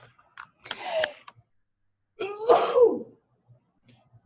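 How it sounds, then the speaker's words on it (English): Two loud, close sneezes about a second and a half apart, the second bigger and more drawn out, with near silence between and after. "big sneezes"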